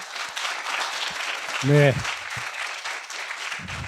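An audience applauds after an acceptance speech, giving steady clapping throughout that sounds fairly distant in a hall, while a voice briefly speaks over it.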